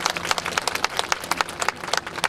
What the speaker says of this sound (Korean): 우리 국토부 장관님께 이것이 빨리 좀 돼서 잘 될 수 있도록 큰 박수 한번 더 보내주시기 바랍니다.